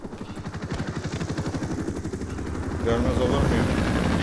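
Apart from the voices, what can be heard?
Russian helicopter flying, from a sniper video game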